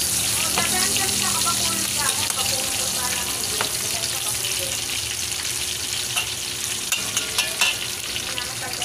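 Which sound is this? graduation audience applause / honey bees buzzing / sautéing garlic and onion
sautéing garlic and onion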